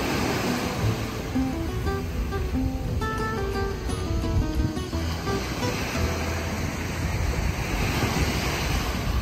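Waves washing onto a clean Barcelona beach, a steady wash of surf mixed with wind buffeting the microphone, continuous and moderately loud, with no talking.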